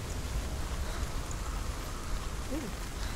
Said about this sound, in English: Thank you for the abundance of wind and the thunder and the rain.